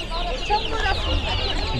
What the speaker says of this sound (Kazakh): Балапан.